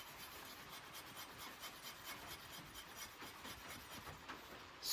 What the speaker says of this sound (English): let's say you have some fat wood here and you really need some shavings with that spine